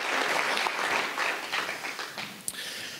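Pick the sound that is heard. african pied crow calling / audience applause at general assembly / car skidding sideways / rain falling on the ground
audience applause at general assembly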